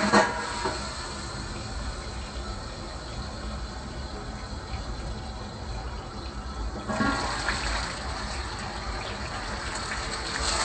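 Raw mango pieces frying in hot mustard oil give off a steady, loud hiss and sizzle that swells a little partway through and keeps going without any talk.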